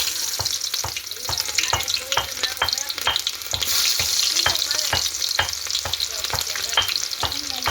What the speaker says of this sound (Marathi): आपण आता याच्यात कांदा टाकून घेऊ.